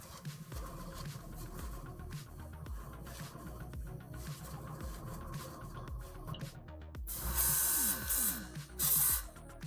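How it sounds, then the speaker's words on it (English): An airbrush sprays paint onto a Necron miniature. Two short, hissing bursts come near the end, loud and close, after a stretch of quiet low background noise. "You literally just missed all the crazy airbrushing."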